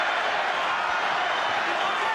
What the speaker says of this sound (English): listen to the crowd trying to fire him up